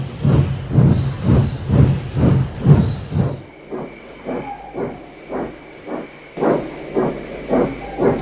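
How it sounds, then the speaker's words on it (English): A steam locomotive chuffs in steady, loud rhythmic whooshes of steam, with a sustained hiss and a faint whistle-like tone, picking up pace as it departs. "With a whoosh of steam, Henry departed right on time."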